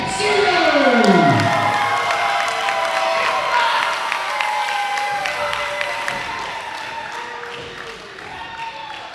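A wrestling crowd at an Indiana show cheers loudly for a tag-team wrestler, with shouting, whoops and scattered claps swelling early and then sustaining at a slightly lower level.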